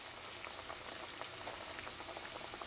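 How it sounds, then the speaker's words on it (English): Kachori frying in oil on medium heat gives a quiet, steady sizzle with small scattered pops and crackles, close by and with no voices. "You want to fry these on medium heat."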